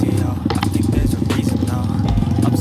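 An off-road motorcycle engine revs and strains continuously up close, with clattering and scraping as the tires slip over slippery, hard ground.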